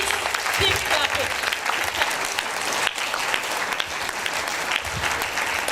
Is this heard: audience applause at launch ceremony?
yes